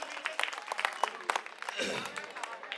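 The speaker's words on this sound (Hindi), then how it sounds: "एक बार चाहूंगा अपने लिए जोरदार तालियां बजा लो आप लोग" Crowd at an outdoor AAP political rally in Babarpur, Delhi, applauding in a steady, dense wash of clapping with bright individual claps standing out, loud and continuous, with some voices mixed in.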